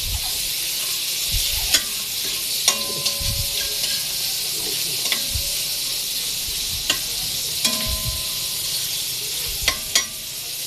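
Oil fries over a fire in a pan with a steady hiss and sizzle, punctuated by scattered stirring clanks and scrapes, heard up close over about ten seconds.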